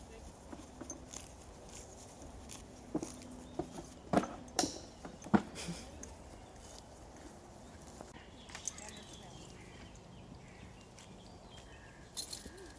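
Hooves of a ridden horse clop on the ground during a first outing, scattered irregular thuds and a few sharper knocks, fairly close, with soft background ambience.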